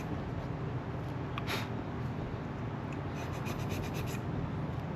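Close, steady scraping and rubbing as a blade shaves the wire insulation on a 1989 Mazda RX7 FC intake air temperature sensor, with a few brief brighter scratches along the way.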